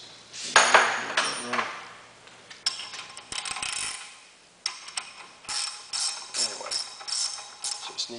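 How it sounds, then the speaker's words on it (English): A flywheel lock tool is fitted into the flywheel teeth during an electric conversion, giving a series of close metallic clinks, clanks and ratcheting knocks in uneven bursts, with quiet gaps between them. "Here's our flywheel lock. It just goes in the teeth here like that, threads into one of the mounting holes."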